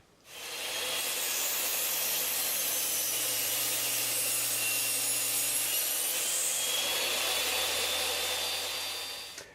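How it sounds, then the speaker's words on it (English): A homemade table saw with a fine finishing blade rips through a piece of cedar about 60 mm deep, producing a steady, loud, continuous whine and rasp of blade in wood from start to finish, with no speech. "So that cut came out nice and shiny, even though this is just a piece of cedar."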